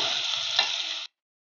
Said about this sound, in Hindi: ऑयल गर्म हो जाएगा तो हम इसमें प्याज फ्राई कर लेंगे।